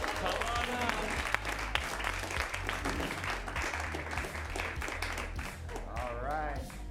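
A theatre audience at a late-night comedy show applauds, a dense steady wash of clapping that fills the whole stretch at a moderate level, with cheering voices woven through it.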